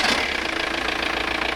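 A diesel engine at idle during an emissions test, running with a steady, loud, even knocking rhythm throughout, close by and with no voices.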